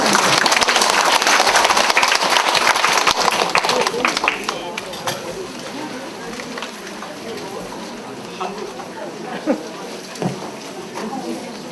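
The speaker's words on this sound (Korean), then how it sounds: "박수해 주세요" An audience at a spring spirituality school session in Myeongdong Cathedral applauds in a dense wash of clapping that fades after a few seconds into quieter hall noise and scattered sounds.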